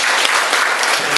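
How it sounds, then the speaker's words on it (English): Audience applause at the close of a medical lecture by a university professor, a loud, close, dense burst of many hands clapping with no voices heard. "please give a big applause to"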